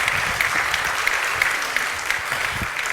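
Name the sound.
congregation applauding in church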